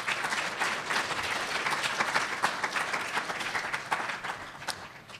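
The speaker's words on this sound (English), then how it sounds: "Please give our speakers a round of applause." An audience at a New School salon talk applauds the speakers, a dense, steady wash of many hands clapping together for several seconds in an indoor hall, with no voices rising above it.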